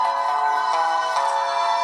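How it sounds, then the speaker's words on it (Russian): Music blares loud and steady from the single mono speaker of a VkWorld Stone V3S rugged smartphone, a bright, tonal, somewhat tinny sound with sustained notes and no voices. "но звук действительно громкий, вы слышите."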